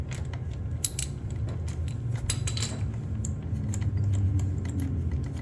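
A wrench loosens the oil drain bolt on a 2021 Kawasaki Ninja 400, with close metallic clicks, ratcheting ticks and small creaks in quick irregular bursts against a low background hum.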